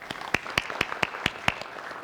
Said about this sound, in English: Let's give a big round of applause, everyone.